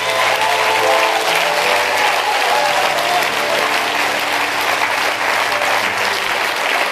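A church congregation at a pastor's sermon claps and cheers without a break, loud and dense applause with a crowd roar that fills the space at close range.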